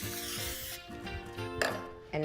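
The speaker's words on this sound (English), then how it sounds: "We're gonna do another spray." A spray bottle misting liquid onto barbecue ribs, a soft, close hiss over a steady background hum, with a sharper spray burst near the end.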